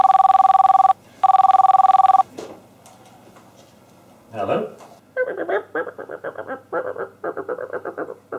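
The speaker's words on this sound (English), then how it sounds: "That was Phil on the phone." A telephone rings loudly in two long electronic bursts with a short pause between, then stops as a voice answers and speaks.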